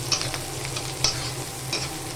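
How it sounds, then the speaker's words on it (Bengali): Onions fry in hot oil in a wok and are stirred, a soft steady sizzle broken by three distinct scraping clinks of a spatula against the metal. "পেঁয়াজটা ভাজা ভাজা হবে"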